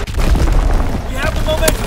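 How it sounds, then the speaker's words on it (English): An artillery strike landing in the Call of Duty: WWII game, a dense rumbling barrage of booms and bursts that runs continuously, with a brief voice near the end. "Coordinates confirmed. Firing on target."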